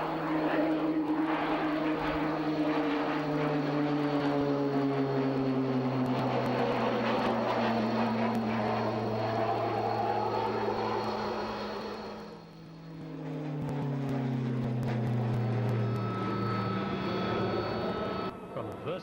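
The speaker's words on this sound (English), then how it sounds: "The blue liveried Tucano, the Brazilian-designed RAF trainer, whilst not as dramatic as its jet predecessor, is infinitely more manoeuvrable" A blue RAF Tucano, the Brazilian-designed propeller trainer, drones overhead at the 1995 RAF Leeming Air Fair, a loud sustained engine and propeller hum whose pitch slides as it passes, dipping briefly before swelling again.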